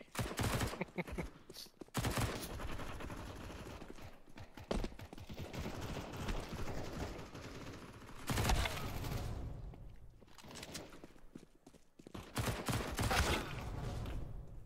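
Rapid M249 machine gun fire in Counter-Strike 2, dense crackling bursts coming in several long volleys with brief gaps between them, loud and busy throughout.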